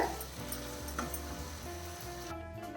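Chopped banana flower sautés in a pan over a medium flame, giving a steady, fairly quiet sizzle with a few faint clinks and no talking.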